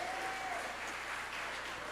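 Church congregation applauding together, a steady, fairly soft wash of clapping heard from within the room, continuing evenly throughout.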